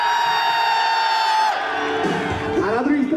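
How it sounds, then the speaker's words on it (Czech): A crowd of obstacle-race spectators at the Predator Race Run in Plzeň roars and cheers on cue, a loud sustained wall of mixed voices with shouts and whoops rising near the end. "Závodníci, řev teď."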